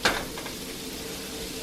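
Mushrooms hit a hot frying pan with a brief clatter, then settle into a steady close sizzle.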